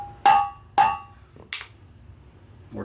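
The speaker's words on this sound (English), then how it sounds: "I'm going to go ahead and wrap it one good time with our soft blow hammer" A soft blow hammer striking the axle trumpet of a Ford 4000 Rowcrop tractor, two sharp ringing metallic blows about half a second apart, followed by a lighter tap and faint clatter.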